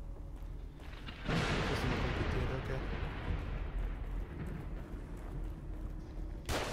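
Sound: enemy gunfire in The Evil Within video game

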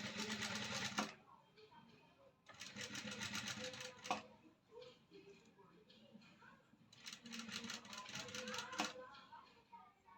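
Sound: sewing machine stitching a blouse neckline

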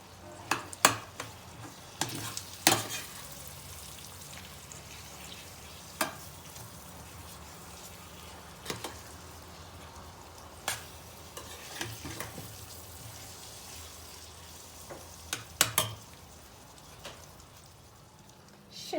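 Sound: stirring hot pepper paste in a frying pan

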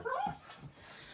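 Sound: dog barking

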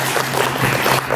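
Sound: audience applause

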